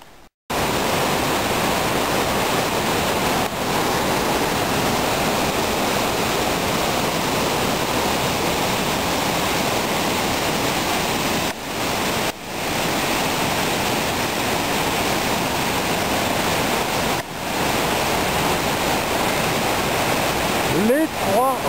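A steady, full roar of rushing water, like a waterfall, constant and loud throughout with no pauses.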